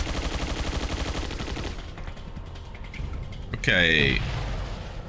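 Rapid gunfire crackles in Resident Evil 4, followed by a sharp blast with a whining, ringing tail. The shots come as a fast burst at first, and one voice speaks briefly.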